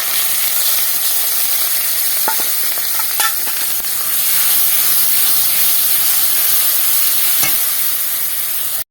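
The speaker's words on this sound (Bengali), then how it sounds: "দিয়ে দিচ্ছি গুলিয়ে রাখা মশলাটা" A mixed spice paste with ginger hits a hot pan for a potato and pointed gourd curry, producing a loud, continuous frying hiss with a few faint clinks of a spoon.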